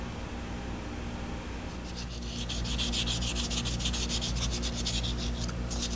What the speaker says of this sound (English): it's hard to sand all these little contours